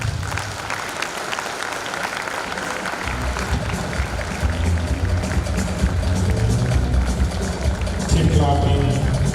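A large audience at the 2022 Oyo State Productivity Day merit award ceremony gives sustained, dense applause that swells slightly louder toward the end, with crowd noise mixed in.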